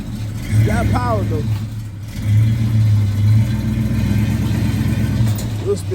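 A Box Chevy, a boxy Chevrolet car fresh out of the shop, revs its engine in several loud, close bursts over a steady idle, with people talking over it.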